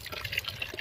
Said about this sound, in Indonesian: Ini airnya sudah gemericik ini.